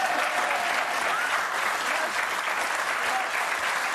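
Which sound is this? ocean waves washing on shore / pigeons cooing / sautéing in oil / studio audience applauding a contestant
studio audience applauding a contestant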